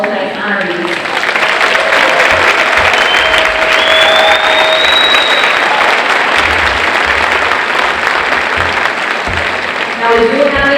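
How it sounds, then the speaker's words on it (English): A crowd at the Susan B. Anthony Awards gives the honorees sustained applause, dense and continuous throughout, with a few high whistles and scattered voices mixed into the clapping. "Would you please join me in one more round of applause for all of tonight's honorees?"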